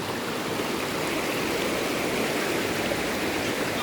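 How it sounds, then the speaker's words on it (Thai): A full stream rushes steadily past a riverside campsite at Khlong Maduea in Nakhon Nayok, a loud, dense, unbroken wash of flowing water close by with no talking. "น้ำ อันนี้ถือว่าน้ำเยอะผมว่า ประมาณนี้กำลังดีเลยนะ"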